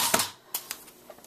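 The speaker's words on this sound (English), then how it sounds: "And I use this Scotch ATG a lot." A Scotch ATG adhesive tape gun lays down glue for scrapbook papers, giving a few short, sharp clicks and rasps spaced apart, fairly close and alone.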